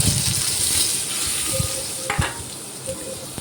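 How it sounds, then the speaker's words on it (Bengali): Cut potatoes fry in hot oil with garlic and radhuni seeds, giving a steady close sizzle with occasional spatula scrapes and light clinks as they are stirred; no voices. "কেটে রাখা আলু দিয়ে আলুটা একটু নেড়ে চেড়ে ভাজা ভাজা করে নেব"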